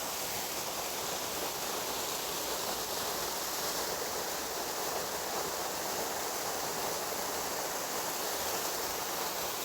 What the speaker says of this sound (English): It's quite a nice waterfall.